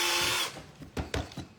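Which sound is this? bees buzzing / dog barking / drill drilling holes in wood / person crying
drill drilling holes in wood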